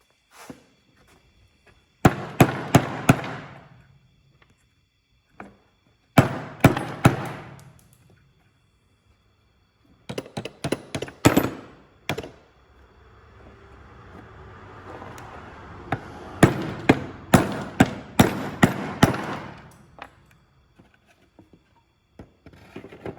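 Repeated hammer strikes on a car's gear shifter while it is modified for an SRT4, landing in sharp rapid bursts of several blows each, loud and close, with short pauses between bursts and a longer run near the end.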